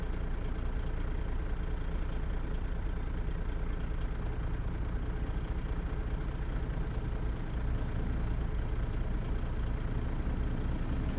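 A ZeeMod DD60 diesel engine in a Kenworth W900 truck idles in American Truck Simulator, a steady, loud low-pitched rumble that runs unbroken throughout with no talk over it.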